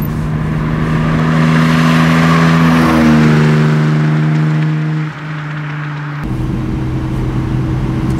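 A 1958 Lancia Aurelia B20 S GT drives along a mountain road, its engine droning loud and close, pitch climbing through the revs, easing off, then settling into a steady cruise hum.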